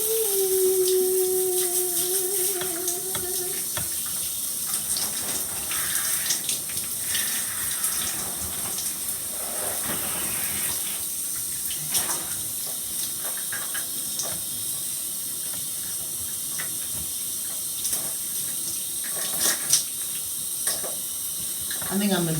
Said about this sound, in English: this is the regular shower that's on